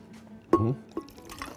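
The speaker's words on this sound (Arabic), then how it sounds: "شويه ميه ساقعه" Cold water poured over ice cubes while making a refreshing peach cocktail, heard as a brief, close splashy pour with a few drips afterward.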